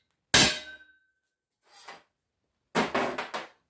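Hammer striking a center punch on a metal motion platform mid-frame, one sharp metallic clang, then a softer tap, then a cluster of several quick ringing blows, close and alone.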